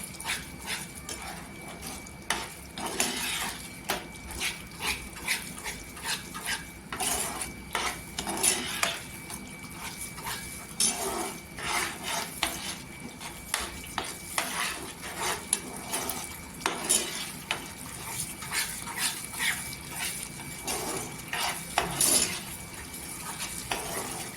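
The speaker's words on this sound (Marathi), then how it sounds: "इथे मिक्स करायचं" A spoon scrapes and clinks steadily against a pan while sweet semolina sheera cooked in ghee is stirred, with repeated metallic taps over a low background hiss.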